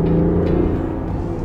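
Diesel engine of a heavy 2.3-tonne Land Rover Defender 90 pulling under acceleration, a steady low rumble heard from inside the cabin, continuous and fairly loud with no talking.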